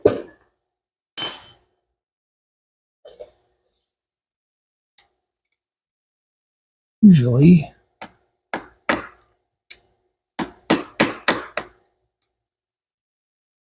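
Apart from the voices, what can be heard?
small hammer tapping metal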